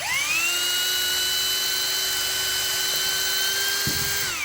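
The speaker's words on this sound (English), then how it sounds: "You can see the plaster on my drill bit there. And then I'm hitting something extraordinarily hard." A high-pitched power drill whines steadily, boring continuously into a plaster wall and striking something very hard, then winds down near the end with a brief knock.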